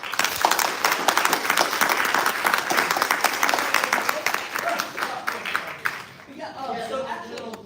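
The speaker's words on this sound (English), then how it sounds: "one more applause for all of our amazing poets tonight" An audience at an evening poetry reading applauds the poets with crisp, close clapping that fades after about six seconds into murmuring voices.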